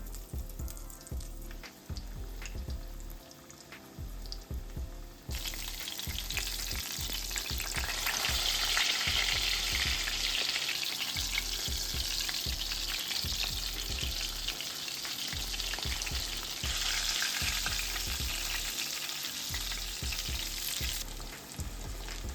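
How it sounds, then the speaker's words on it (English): Chicken cutlets fry in olive oil in a pan, a close, steady crackling sizzle that swells louder partway through, broken by occasional clinks and handling sounds, with no voices. "I'm gonna go ahead and fry up the other 2 cutlets"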